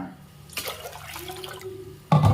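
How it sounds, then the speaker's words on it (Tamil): Water poured into a pressure cooker while making a Tamil black-eyed pea kuzhambu: a running splash with a rising fill tone, then a louder, fuller gush of pouring toward the end, close and alone. "அதுக்கு டபுள் மடங்காக தண்ணி ஊற்றிக்கோங்க"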